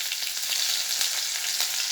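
Chopped onion frying with a few cumin seeds in red-hot oil, a loud, steady, close sizzle that crackles without pause and with no voices.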